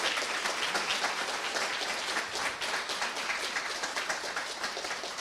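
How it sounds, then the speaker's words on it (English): A conference audience in Seattle gives steady, dense applause, many hands clapping at an even level throughout with no talking over it. "round of applause"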